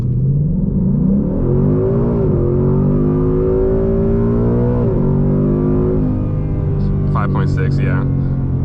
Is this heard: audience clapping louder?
no